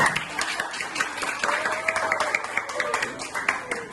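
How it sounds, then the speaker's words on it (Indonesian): A classroom audience applauds after a student presentation, a moderate burst of clapping with voices mixed in and chatter carrying over the hands. "Terima kasih, tepuk tangan."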